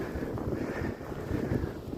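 Blizzard wind sweeps across a boat station in winter, producing a continuous, gusty rush and rumble that buffets the microphone at close range.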